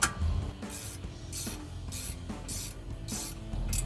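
Brake bracket bolts on a 2011-2014 Mustang GT are tightened with a breaker bar, producing a close, rhythmic series of about seven raspy scraping strokes at an even pace, without speech.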